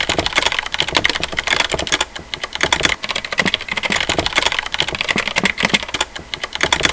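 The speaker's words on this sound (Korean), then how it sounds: "제가 전에 쓰던 레오폴드의 FC660M도 갈축이었는데요." Keystrokes on a Leopold FC660M mechanical keyboard fitted with Cherry brown switches, steady rapid clacking heard up close and alone for several seconds.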